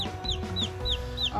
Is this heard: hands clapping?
no